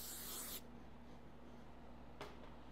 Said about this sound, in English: I'm going to spray it one more time just to dirty it up and make sure it'll hold it